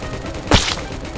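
A single sharp gunshot goes off in a Roblox prison escape game, a brief loud crack with a short tail that stands alone against a low background hum.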